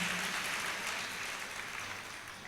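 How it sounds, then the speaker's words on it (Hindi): Applause from an audience at a Jain religious discourse, a steady dense wash of clapping lasting throughout, moderately distant, with no voices. "एक बार जोरदार तालियां बजाइए भाई इनके लिए।"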